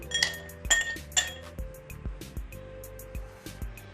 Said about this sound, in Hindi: अब ग्लास में बर्फ के क्यूब्स डालेंगे।